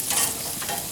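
Food sizzles and chars on a propane grill, producing a soft, steady crackle heard up close with no voices.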